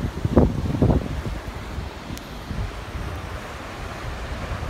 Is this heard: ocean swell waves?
yes